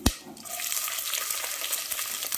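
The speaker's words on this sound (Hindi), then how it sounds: "अब ये सब तड़का अच्छी तरह जल चुका है।" Whole spices such as cardamom, cumin, black pepper, cinnamon, cloves and dried red chillies fry in hot oil for a biryani tadka, a steady close sizzle with a sharp clack at the start.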